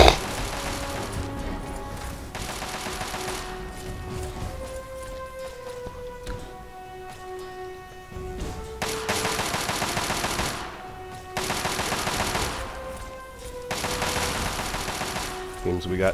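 Gunfire in the video game Fallout 3 at the Capitol Building, Talon mercenaries fighting mutants: repeated bursts of rapid shots come and go over a tonal music bed, moderately distant.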